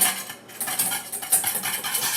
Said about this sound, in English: Slowly add it in, whisk it together.